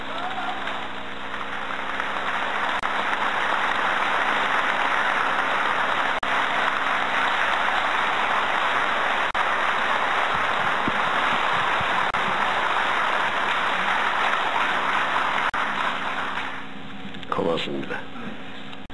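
Sustained, loud applause from a large crowd at a Korean presidential campaign rally, dense and steady for about sixteen seconds before tapering off, followed by a brief speech fragment.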